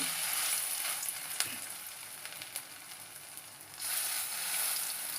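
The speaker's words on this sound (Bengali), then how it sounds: "এবার আমি বড়াগুলো করে নেব তেলের ওপরে দিয়ে দিচ্ছি একে একে বড়াগুলো তুলে নেব" Gandal leaf fritters frying in hot oil in a kadai produce a continuous hiss and crackle, with a few sharp pops and clicks. The sizzle dips briefly in the middle, then swells back.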